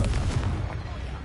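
A Confringo fire spell blasts off in Hogwarts Legacy, heard as a loud, dense booming burst that fills the moment and rumbles heavily in the lows before tapering slightly.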